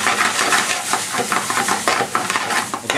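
Tomato puree hitting a hot pan for a lamb balti: a steady close-up sizzle with bursts of crackle and scraping stirring throughout, with no talking.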